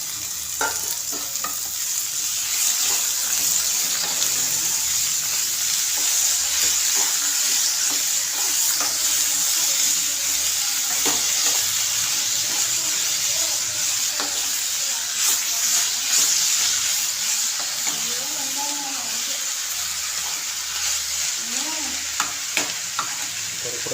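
Ivy gourd and onion fry steadily in a pan for a cooking of kovakkai poriyal, a continuous close sizzle broken by occasional scrapes and knocks of a spoon stirring the vegetables.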